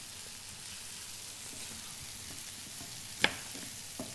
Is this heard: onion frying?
yes